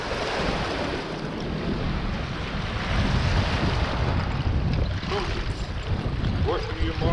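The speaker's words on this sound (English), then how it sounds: "I love these waves." Waves washing onto a riverside mudlarking shore, a loud churning surf with gusty wind buffeting the microphone, swelling midway and breaking in bursts near the end.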